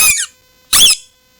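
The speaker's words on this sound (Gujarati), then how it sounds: "આ પંપુડું છે ને એ પેલા મોઢા નાખીને ઊભી શેરીએ નીકળતો જો." Squeaky toy pipe blown by mouth: two loud, shrill squeaks close up, each a fraction of a second long, separated by a short silence.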